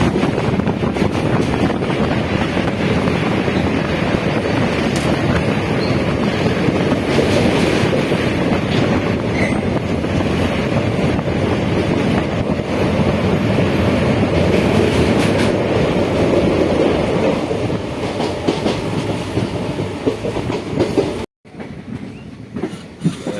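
A train rumbling across the long Saraighat railway bridge over the Brahmaputra river, a loud, unbroken roar with rhythmic wheel clatter and wind buffeting, cutting off sharply near the end.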